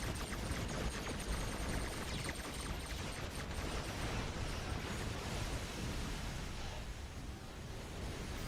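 A broad, rumbling blast in a space video game, a dense wall of noise that stays steady and loud throughout with no clear separate bangs.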